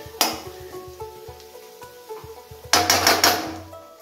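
Cabbage sautéing in a pan for Manchow soup, with a bright sizzling burst near the start and another louder one later, plus low clinks and taps of a spoon against the pan between them.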